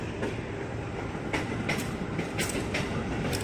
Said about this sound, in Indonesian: Dan masuk di jalur 2-nya, JRS 205, komuter lain tujuan Jakarta Kota.